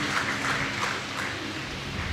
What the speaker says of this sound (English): Let's give them a round of applause while they come on stage